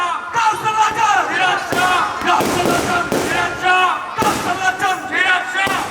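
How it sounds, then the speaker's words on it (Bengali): Fireworks burst at a shrine courtyard celebration while a crowd cheers and shouts loudly, with several sharp bangs cutting through the continuous roar of voices. "আতসবাজি আর মানুষের উল্লাস যত জোরালো হয়"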